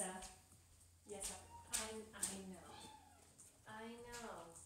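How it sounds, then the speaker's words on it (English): A distressed house cat meows indoors several times in a row, short plaintive cries that are faint and close by, with a person talking softly around them. "I don't know if you hear my poor cat"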